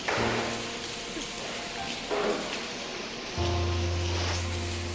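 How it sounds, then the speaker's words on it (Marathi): Heavy rain pouring down at a roadside stop near Talegaon, a dense continuous hiss of falling water with a few swells in loudness and steady low tones running under it. "तुफान पाऊस"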